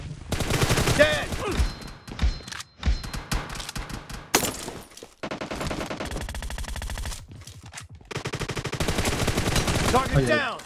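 Rapid bursts of automatic gunfire from a BGMI team deathmatch, loud and close, with dense volleys separated by brief pauses and a sharp single crack in the middle, while a voice speaks over parts of it.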